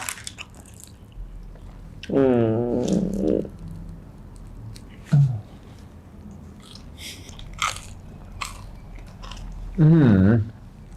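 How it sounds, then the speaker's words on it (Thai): Crunchy fried chicken is bitten and chewed close to the mic, sharp crackling crunches recurring over several seconds, with people talking in between bites. "เหมือนเคี้ยวทรายคนกรอบมาก"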